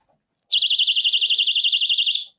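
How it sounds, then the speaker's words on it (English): A bare-bones 140-decibel personal safety alarm, set off by pulling its pin, shrieks with a loud, shrill, rapidly warbling siren tone that starts abruptly and holds steady for about two seconds before cutting off. "it's a 140 decibel alarm, okay? It will run for 30 minutes unless you put the pin back in"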